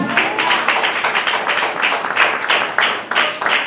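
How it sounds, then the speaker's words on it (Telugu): A church congregation at a Good Friday service claps loudly and steadily in praise of Jesus, a dense roomful of hands beating in a quick, even rhythm with no talk. "ఒకసారి యేసయ్య గట్టిగా చప్పట్లు కొడదామండి"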